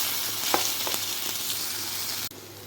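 Ginger garlic paste for a chicken kurma frying hot in a pan, a constant sizzle broken by a few quick scraping stirs.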